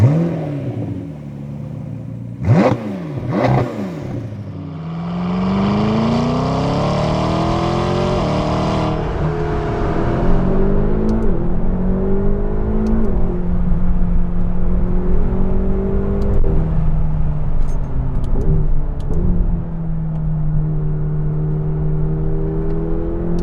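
A McLaren GT V8 supercar fires up with a sharp starter crank and bark, then settles into a loud rising high idle that eases down to a steady rumble with a few throttle blips, heard close with no talking.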